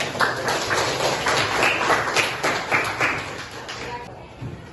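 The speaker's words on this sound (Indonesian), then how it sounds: "Kita beri tepuk tangan dulu biar bersemangat." Students clap their hands in a classroom, a lively continuous patter of many claps lasting a few seconds, with voices mixed in before it fades.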